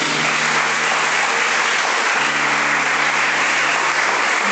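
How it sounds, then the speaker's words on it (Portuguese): A church congregation applauds during a Portuguese-language sermon, producing a loud, dense, continuous wash of clapping that fills the whole stretch without pause. "Aplauda Jesus."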